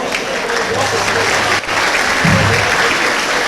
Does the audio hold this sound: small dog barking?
no